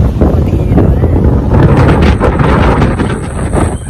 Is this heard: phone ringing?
no